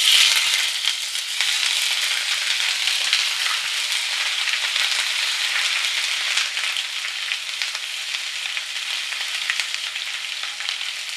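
Ginger garlic paste frying in hot oil, a loud steady close sizzle that holds evenly throughout with no voices.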